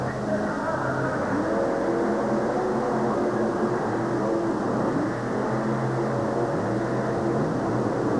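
Monster truck engines roar at a 1992 USHRA Pontiac event as a Mustang truck lines up against Psycho, a loud continuous droning rumble with shifting engine tones and crowd-arena wash throughout.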